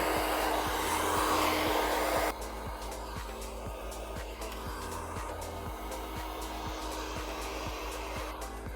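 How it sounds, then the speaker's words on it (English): A hair dryer blows with a loud rushing whoosh, then drops to a lower setting and keeps humming steadily with a faint rhythmic flutter. "We're going to turn the dryer on and dry that root area."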